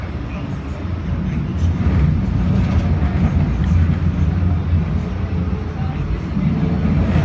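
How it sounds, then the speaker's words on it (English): A CTA Siemens SD160 Blue Line train pulling away from a station, a loud steady rumble and roar of the car close by with a continuous low drone, no talking. "Please stand clear of the doors as this train is trying to depart."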